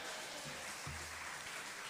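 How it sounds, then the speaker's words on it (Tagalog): Applause from a church congregation at a midweek prayer meeting, a quiet steady patter of clapping running through the whole moment, faint and somewhat distant, with no talk over it. "Palakpak."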